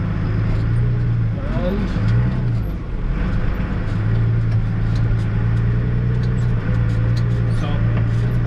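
A farm tractor hauls a trailer loaded with crimped grain back to the yard during harvest, its engine a steady close drone with gear and load rattles, a brief dip midway and a voice heard faintly.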